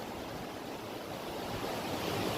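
Water flowing steadily at a gold prospecting claim, a continuous broad rushing wash close by, with no voices.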